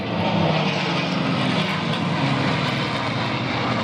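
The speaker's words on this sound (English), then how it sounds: "The P51 in the D version, these are Ds." A North American P-51D Mustang with a Merlin engine flies at the Duxford air show, a loud steady engine drone that holds evenly throughout with no voices.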